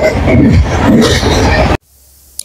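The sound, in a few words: train ride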